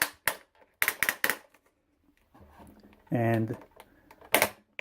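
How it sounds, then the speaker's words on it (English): A Masters of the Universe Classics toy vehicle stand being pulled apart gives a short burst of loud plastic ratcheting clicks, with quieter clicking and brief talk before and after. "I'm going to pull this off again. And it is, prepare for loud sound, it is ratcheted."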